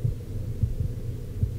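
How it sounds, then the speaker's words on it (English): Low, muffled heartbeat thuds from the hurt-state effect in the video game Batman: Arkham Origins, a few soft beats pulsing at uneven intervals over a faint hum. "it actually hurts me, so you can hear the heartbeat"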